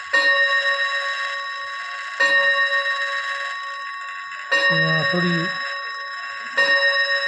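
A key-wound wall clock strikes its hammers on metal rods: four evenly spaced, bright chiming strokes, each ringing and slowly fading, with a voice speaking briefly near the middle.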